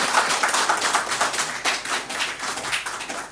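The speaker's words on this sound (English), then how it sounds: "They deserve a round of applause." A ceremony audience at the presentation of Ghana's National Economic Dialogue report claps steadily, with dense, evenly sustained applause that fills the whole stretch without a break.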